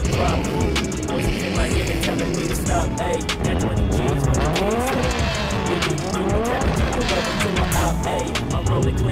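Cars roar together at the start of a race at the Klang track, engines revving hard and tires squealing, loud and close, with people talking over the noise.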